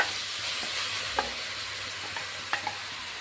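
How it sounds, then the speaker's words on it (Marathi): Grated pumpkin sautés in hot ghee with a steady, even sizzle and a few light clicks of a spatula turning it over, close and continuous. "भोपळा चांगला आपल्याला ह्या तुपामध्ये ना असा खालीवर करून मस्त असा परतवून घ्यायचा"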